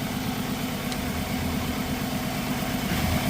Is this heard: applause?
no